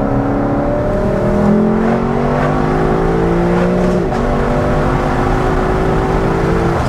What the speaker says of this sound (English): That's the hardest I've revved it.